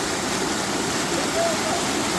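A waterfall in a forest at night roars as a steady, loud, unbroken rush of falling water, with faint voices partly buried beneath it.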